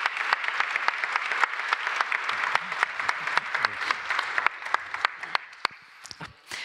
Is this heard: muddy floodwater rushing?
no